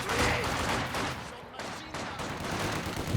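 Machine gun fire from light and heavy machine guns in the Company of Heroes 2 strategy game, a dense, steady burst of rapid shots lasting the whole clip alongside other battle noise.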